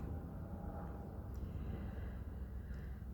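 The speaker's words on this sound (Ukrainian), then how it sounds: "Перепрошую за ці звуки, але тут літають літаки." Airplanes pass overhead as a steady, broadband rumble that fills the clip at an even level, with no voices.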